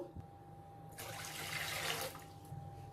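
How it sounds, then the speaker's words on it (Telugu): Water pours steadily into a pan for about a second, a soft rushing splash that stops abruptly, quiet all around. "ఒక రెండు పెద్ద గ్లాసులు నీళ్ళు వేసేసుకుందాము"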